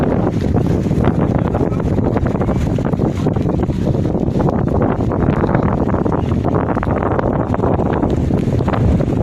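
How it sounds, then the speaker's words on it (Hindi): A strong wind at Rawal Dam, under full cloud with rain falling, blows hard and steady across the microphone. It makes a loud, continuous rumbling roar from start to finish. "बहुत तेज़ हवा चल रही है।"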